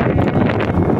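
A strong gust of wind roars and buffets against the microphone for a brief moment outdoors in a village neighbourhood, loud and rumbling.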